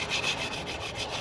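Sandpaper scrubs steadily along a homemade chopping knife blade, a continuous close, dry rasping hiss with slight rhythmic pulses from each stroke and no talking.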